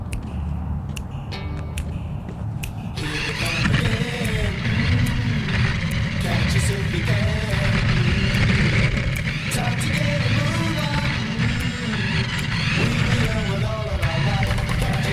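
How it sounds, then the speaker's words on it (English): A Taiyo-Edge radio-controlled race kart, Bill Elliott edition from 2002, drives with a steady, loud, continuous motor whine and rattle that rises after a few seconds and holds for the rest of the clip. "This is the Taiyo-Edge radio controlled race cart, Bill Elliot version."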